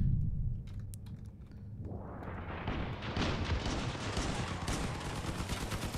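Gunfire in the vehicle combat game Crossout, from a lightweight build with a shotgun and a medium machine gun. A dense burst of rapid shots builds after a quieter start and continues as a sustained rattling barrage, with no talk over it.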